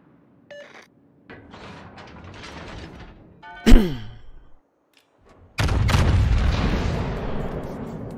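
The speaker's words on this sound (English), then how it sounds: "I went for a little blind fire on the Vermont" Naval gunfire from a Royal Navy battlecruiser in World of Warships: a sharp boom near the middle, then a loud, sustained broadside roar rumbling on to the end, with brief mechanical noises before it.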